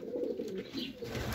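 Pigeons coo softly in a pigeon fancier's loft in Reghin, a low murmuring drone that runs steadily and close by without a break.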